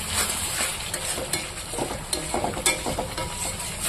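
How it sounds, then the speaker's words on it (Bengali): Ground chili, onion, ginger, garlic and cumin paste sautéing in hot oil, a close, loud sizzle with frequent quick scrapes and clicks of the spatula against the pan. "সবকিছু বাটা দিয়ে আমি হচ্ছে ভালো করে মশলাটাকে কষিয়ে নেব"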